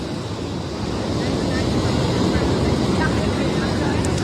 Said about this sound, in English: They can hear the water.